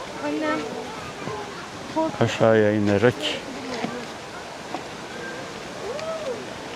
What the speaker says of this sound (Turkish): şelaleyi bir de aşağıdan çekeceğiz.